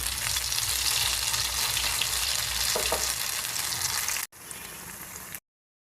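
Loud, dense bubbling sizzle of cauliflower fritters deep frying in hot oil, continuous and close, then an abrupt cut to a quieter stretch before silence.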